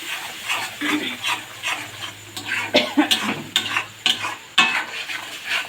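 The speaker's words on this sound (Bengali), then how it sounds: "মশলাটাকে আমরা ভালো করে কষিয়ে নিই" Spice masala is sautéed in oil, a moderate sizzle under repeated rhythmic scraping and stirring strokes of a spoon against the pan, each stroke a distinct close scratch.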